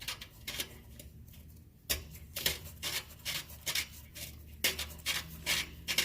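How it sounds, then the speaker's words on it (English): Oil drain plug on a John Deere 657A stander mower being unscrewed by hand, a run of short dry rubbing and ratcheting scrapes in quick bursts, close and moderately loud, with no speech. "you just unscrew that until it opens up the drain"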